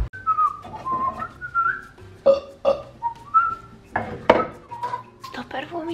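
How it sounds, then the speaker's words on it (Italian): Several loud burps break out one after another in a home kitchen during dinner preparation, mixed with clinking dishes and cutlery and some whistle-like tones. "Perché questo rutta?"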